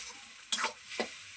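Salted spice paste frying in oil in a pan until it reddens, with two short bursts of stirring and scraping over a faint, steady sizzle.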